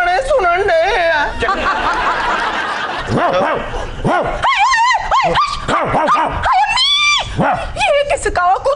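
On a television comedy show, a dog yips, barks and whimpers in short rising cries, loud and close, mixed in with people talking over it.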